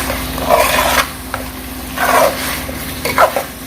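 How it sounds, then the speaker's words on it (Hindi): Whole spices frying in an onion, ginger and garlic paste for Pakistani-style chicken biryani, stirred in three bursts of scraping and sizzle with short pauses between, close up and with no talking. "अभी इसको इस तरह भूनेंगे"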